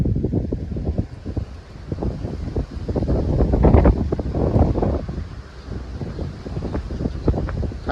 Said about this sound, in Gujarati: જતા પવન તો જો થોડી સ્પીડ છે.